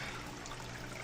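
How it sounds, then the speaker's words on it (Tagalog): Water running in a fountain, a continuous soft splashing trickle heard briefly and faintly, with no other sounds standing out. "Parang may narinig akong tubig. May fountain."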